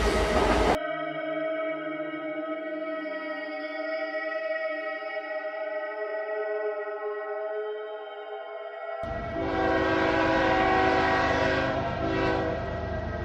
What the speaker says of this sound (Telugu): రాత్రి 8 గంటలకు శతాబ్ది ఎక్స్ప్రెస్ స్టేషన్ కి చేరుకుంటుంది.